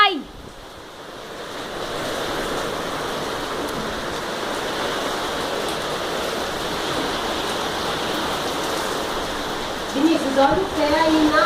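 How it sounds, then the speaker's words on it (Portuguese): Heavy rain pours down in a steady broadband rush, loud and close like rushing water, with a brief burst of voices near the end. "Tá chovendo muito aqui."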